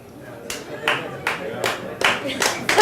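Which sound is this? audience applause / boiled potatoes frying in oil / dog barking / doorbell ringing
audience applause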